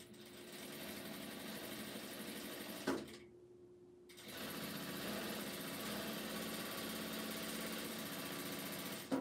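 A sewing machine stitching quilt fabric runs in a steady, even buzz, stops for about a second, then starts again and keeps going at the same pace, close and clear.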